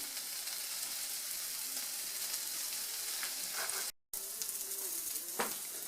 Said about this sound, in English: Alright, I got that andouille sausage there. See, brown down real good.